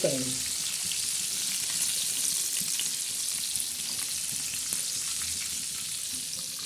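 Fish deep-frying until crisp in a pan, giving a steady, dense sizzle that holds evenly throughout at moderate volume, with a faint brief sound at the very start.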